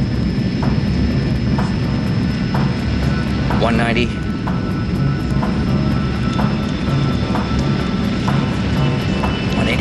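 A critically overweight airliner on a fast final approach without full flaps produces a continuous roar of engine noise, with a short spoken callout over it.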